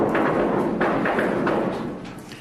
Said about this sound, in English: our cameras were rolling 200 yards away when his explosives finally detonated